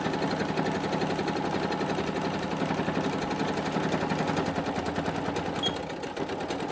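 Sewing machine running steadily while stitching down the middle of the designs on a quilted journal cover, a close, even mechanical whir with rapid needle rattle, easing off slightly at the end, no talking.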